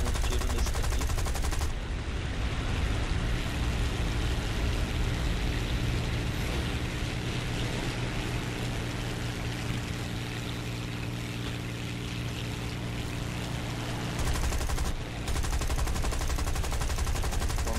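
Steady, dense tank gunfire roars continuously against a loud engine rumble in the video game War Thunder, with brief gaps near the start and end; no voices.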